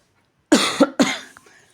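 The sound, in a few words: coughing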